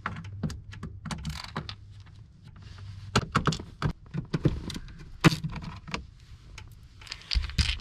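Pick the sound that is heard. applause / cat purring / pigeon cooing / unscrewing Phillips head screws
unscrewing Phillips head screws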